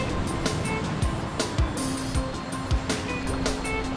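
Ocean surf breaks on a secluded beach on Nusa Penida island, Bali, Indonesia. The waves wash steadily at moderate level, cut by sharp gusty bursts of wind and a few short swooping sounds.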